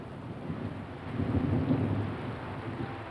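Steady rain hissing down with a low rumble of thunder swelling in the middle, fairly faint and continuous.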